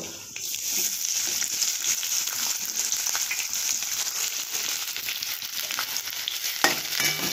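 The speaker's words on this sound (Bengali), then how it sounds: "এইবারে আমি তারপরে পেঁয়াজ ফোড়ন দেবো।" Onion drops into hot oil seasoned with nigella seeds for a cabbage, peanut and poppy-seed curry, giving a loud, bright, continuous sizzle up close with a few faint stirring knocks and no voices.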